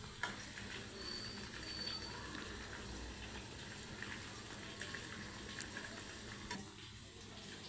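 Chicken pakodi pieces deep frying in hot oil give off a faint, continuous crackling sizzle with occasional sharper pops, steady throughout and unaccompanied by any voice.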